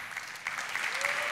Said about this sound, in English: Give it up, a round of applause.